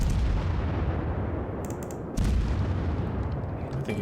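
Artillery booms from a Mogami cruiser in the World of Warships video game, a heavy low rumble with a couple of deep blasts and a dull thud near the middle, fairly quiet overall.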